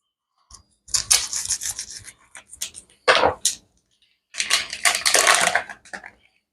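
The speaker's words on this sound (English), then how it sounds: "So I've got my ground turkey mashed up a little bit here." Raw ground turkey being mashed and stirred in a glass bowl for potsticker filling, giving wet squelching, rubbing and scraping bursts in several close, fairly loud bouts with short pauses between them.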